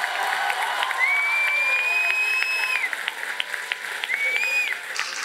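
Audience applause at a cultural gala awards ceremony, a continuous even clapping from a crowd with a couple of high whistles cutting through.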